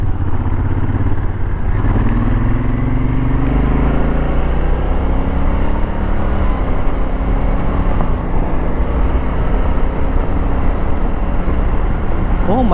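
Honda Africa Twin with a dual clutch transmission accelerating on a highway, a loud steady engine drone with rising harmonic sweeps as it climbs through gears, mixed with wind and road noise throughout.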